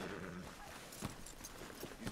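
Horse hooves in the Red Dead Redemption 2 video game clop faintly over low ambient noise, with a few soft thuds scattered through the short stretch.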